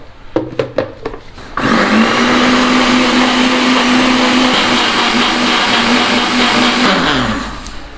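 After a few clicks, a blender mixing white chocolate sauce whirs loudly and steadily for several seconds, then winds down and stops.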